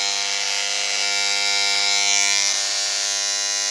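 Pifco Prince electric shaver running steadily, a loud close mechanical buzz with a strong whine that holds unbroken throughout, with no talking.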